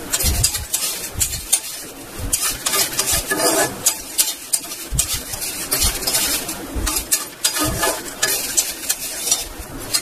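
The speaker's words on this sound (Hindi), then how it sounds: "इसके बाद भी इसको चलाते रहेंगे क्योंकि कढ़ाई अभी बहुत ज़्यादा गर्म है" Flattened rice (chura) being stirred and tossed in a hot kadhai, continuous scraping and rustling of spoon against metal with a light sizzle, close and busy throughout with no talking.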